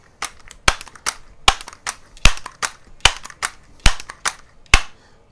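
Sharp, close pellet shots from a Daisy model 922 .22 caliber multi-pump pellet rifle, roughly eight loud cracks spaced about half a second to a second apart, with quieter clicks and knocks between them.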